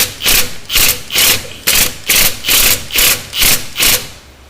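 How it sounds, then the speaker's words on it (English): A power drill runs in the bolts of a mini starter on a big-block engine, sounding as nine loud, close, evenly spaced bursts of whirring effort with brief pauses between them. "I'm going to use a drill."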